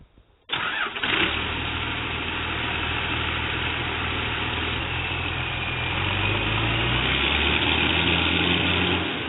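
A car engine with a loud hood stack cranks and fires up, then settles into a steady, rough, loud idle close by, with a slight shift in pitch partway through.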